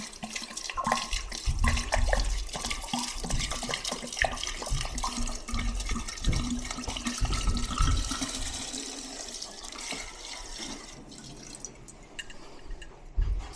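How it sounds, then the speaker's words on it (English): Homemade lemon liquor is squeezed out of a bottle in a run of wet splashes, drips and gurgles, with a few plastic crackles, fairly close and continuous. "Squeeze that bottle, make sure you get everything out of there."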